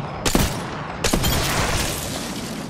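Gunfire in the battle royale game Apex Legends: two sharp, loud shot bursts close together, the second followed by sustained rattling fire, with no talking over it.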